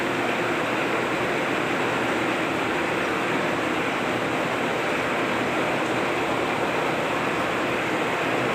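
Heavy water gushing steadily from a fire pump system running at full speed during testing and commissioning, a loud, continuous broadband rush with no pauses and no talking.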